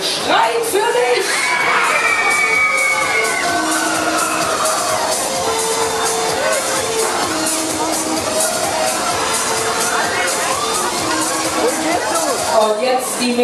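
Riders on the Transformer fairground ride at the Nuremberg Volksfest scream and whoop continuously, a loud dense crowd of shrieking young voices with ride noise underneath throughout.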